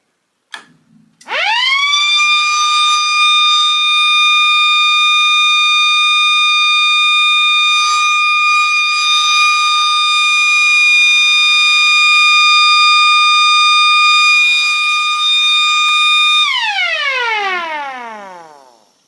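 A piercing electronic alarm siren on a test board blares at a steady pitch for about fifteen seconds, very loud and close, then winds down and stops.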